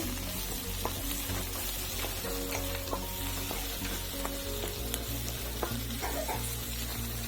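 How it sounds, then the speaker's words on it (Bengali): Green chilies and whole cumin seeds crackle and sizzle in hot oil for a tempering, a dense continuous frying hiss with a few sharp pops and stirring scrapes, close up and steady throughout. "এখন কাঁচা লঙ্কা কিছু দিয়ে দিলাম এখানে কটা গোটা জিরে দিয়ে দিলাম ফোড়নে"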